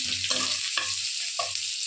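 Black cumin and green chilli fry in a pan on very low heat, with a soft, constant sizzle under a few distinct scraping stirs of a spatula.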